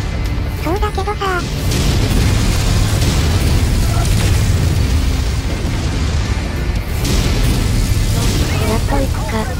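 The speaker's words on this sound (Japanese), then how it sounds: "爆発しまくりだな" Explosions and booming combat from the MechWarrior 5 video game, a dense, loud, continuous rumble with bursts and mechanical clatter layered throughout, with short synthetic chirps near the start and end.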